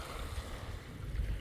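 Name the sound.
calm Black Sea, gentle waves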